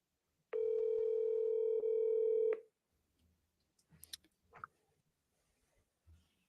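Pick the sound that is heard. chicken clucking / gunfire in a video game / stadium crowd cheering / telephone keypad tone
telephone keypad tone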